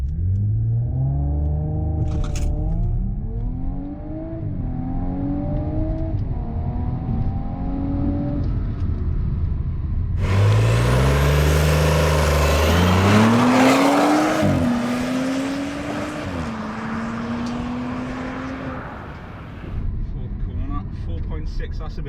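Car accelerating hard on a 0-60 mph timed run, the engine note rising through several gear changes, easing off, then roaring loud and close through another set of upshifts, with talking over it.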